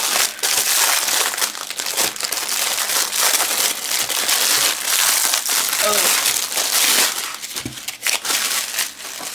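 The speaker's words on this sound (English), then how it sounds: "I need to open up some new mesh" A new roll of Dollar Tree deco mesh being unwrapped for a fall wreath, giving loud, continuous close crinkling and rustling of plastic with a few sharper crackles, with no voice over it.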